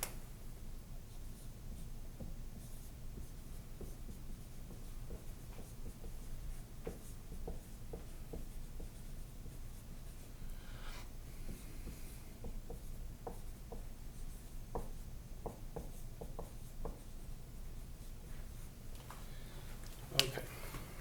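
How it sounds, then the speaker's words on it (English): A marker writes on a board in a classroom, giving faint, scattered squeaks and strokes over a low steady room hum. "let me write that on the board"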